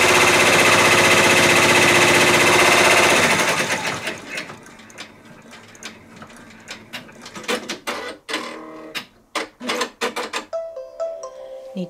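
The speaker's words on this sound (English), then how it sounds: "Now it's going to do the placement stitch." An embroidery machine sews a placement stitch on fabric for a dachshund tote, whirring loudly at first, then giving way to a run of sharp mechanical clicks and taps at close range.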